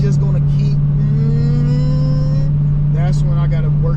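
A Dodge Hellcat Jailbreak with 717+ hp is driven, its engine holding a loud steady drone and then revving upward in rising tones while people talk inside the car.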